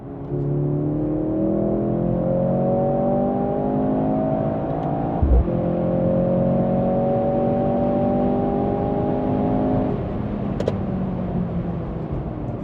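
A Mercedes-AMG C63 S E Performance Estate plays its artificial engine sound as a steady, rising synthetic drone, loud and close, with a brief thump midway and no talking.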